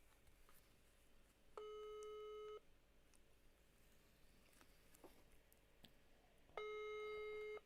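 Phone ringing on a live call, heard as two one-second ringback tones separated by a long pause, faint and clear over a quiet background.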